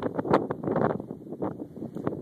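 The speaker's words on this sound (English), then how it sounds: "Wind gusts, kind of blustery out here" Blustery wind after a blizzard in Jersey City buffets the microphone in uneven, rumbling gusts that rise and fall throughout.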